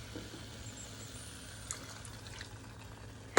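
Half a cup of water poured into a mixture of homemade mustard and Worcestershire in a kitchen, a soft steady trickle and splash running for a few seconds, ending in a sharp clink.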